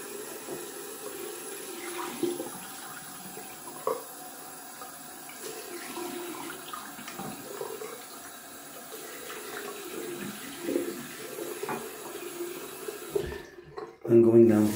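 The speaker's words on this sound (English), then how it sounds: "Gonna rinse out my bowl." Tap water runs steadily while a shaving bowl is rinsed out after a two-pass wet shave, a continuous close splashing wash that ends with a brief louder burst near the finish.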